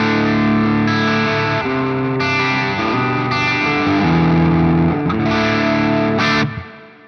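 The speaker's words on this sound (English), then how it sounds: "my first preset is usually a cleanish edge of breakup sound with some chorus and with some reverb always on" Electric guitar through a Cortex multi-effects unit, set to a clean edge-of-breakup tone with chorus and reverb always on, playing loud sustained chords that shift every second or so and ring into a short decay at the end.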